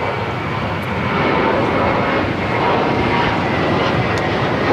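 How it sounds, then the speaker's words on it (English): A JetBlue Airbus A321 takes off from LAX bound for Fort Lauderdale, its engines a loud, steady broadband roar that swells slightly after the first second and holds without pause. "This is the moment I met Blue taking off to Fort Lauderdale, JetBlue 2900. It's an A321."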